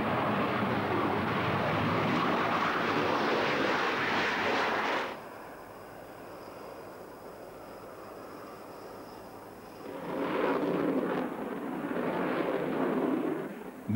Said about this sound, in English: The popular image is the man who flies high-performance fighters, like the Tornado.